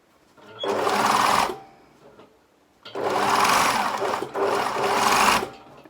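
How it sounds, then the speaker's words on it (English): A sewing machine stitches along the edge of bias binding on a garment side seam, three bursts of fast, close mechanical whirring separated by short pauses. "I'm just sewing right on the edge of the bias binding."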